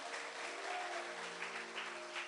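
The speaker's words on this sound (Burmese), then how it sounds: "လက်ခုပ်တီးပြီးတော့မှယေရှုကိုဂုဏ်ပြုရအောင်" Steady wash of hand clapping from a church congregation honoring Jesus, with a sustained tone running underneath, filling the whole stretch at an even level with no speech.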